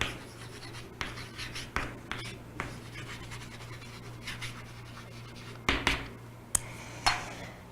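Marker or chalk strokes scratching across a classroom board, a run of short irregular scrapes and taps over a steady hum, close, with no talking.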